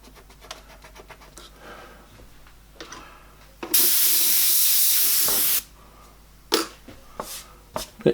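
An airbrush sprays paint in a bright, even hiss lasting about two seconds, flanked by short puffs and faint handling noises nearby.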